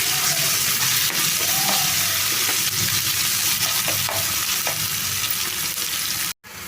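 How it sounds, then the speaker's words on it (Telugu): Ginger garlic paste frying in a pan gives a steady, close, continuous sizzle with faint stirring scrapes, and no voices. "ఒక 2 నిమిషాలు ఫ్రై చేసుకోవాలండి. ఈ అల్లం వెల్లుల్లి పేస్ట్ పచ్చి వాసన పోయే వరకు"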